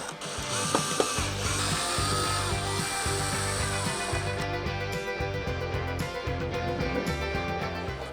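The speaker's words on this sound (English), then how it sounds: "go ahead and remove your 4 windshield screws" Windshield screws being backed out of a Harley-Davidson Road Glide with a hand ratchet, a steady run of close, rapid ratcheting clicks that continues throughout.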